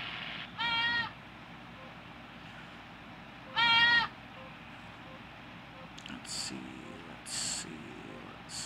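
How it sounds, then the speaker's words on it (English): A small goat bleats twice outdoors, two short wavering cries a few seconds apart, fairly close, with faint voices and rustling in between. "Oh, hi little goatee. I don't remember where you are. Where are you, goatee?"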